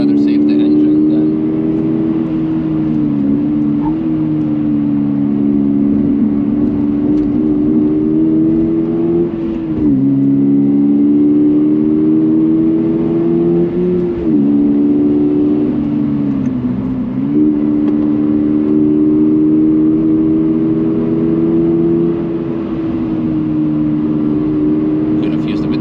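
A car engine drones loudly and steadily, its pitch climbing through gears and dipping at each shift, sustained like hard driving on a track.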